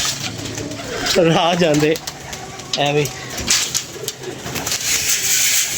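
Pigeons feeding on scattered grain coo in two close, warbling bursts over steady background noise while someone talks nearby.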